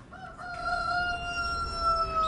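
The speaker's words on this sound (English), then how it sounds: "Like we just heard the rooster crow right there." A rooster crows at a small urban farm in Toronto, a long sustained cock-a-doodle-doo at moderate distance over a steady background hum, with no talking.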